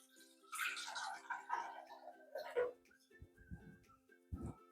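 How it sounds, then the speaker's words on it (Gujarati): Water, about half a small bowl, pours onto sugar in a thick-bottomed pan for kaju katli syrup, a close splashing rush lasting a couple of seconds, followed by a few soft knocks over a low steady hum. "ખાંડ ડૂબે એટલું એમાં આપણે અડધી વાટકી જેટલું પાણી ઉમેરીશું"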